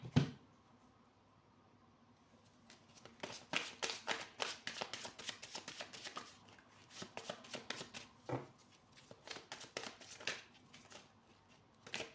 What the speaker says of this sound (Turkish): Bir de iskambil destemden alıyorum.